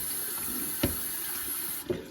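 Cold tap water runs steadily into a sink while white pine needles are rinsed, with a couple of soft knocks and splashes from handling.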